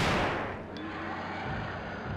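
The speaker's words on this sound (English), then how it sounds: "One more shot for good measure." A shotgun blast in the video game Resident Evil 2, one loud booming shot with a long rumbling decay afterward.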